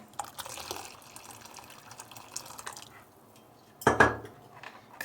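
Water is poured into a pot of homemade tarhana soup with a splashing trickle that begins and ends, then metal clinks sharply against the pot as it is stirred.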